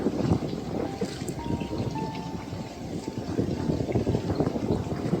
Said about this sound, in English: it does sound like popcorn from everywhere in this forest